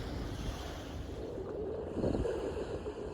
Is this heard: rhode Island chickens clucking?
no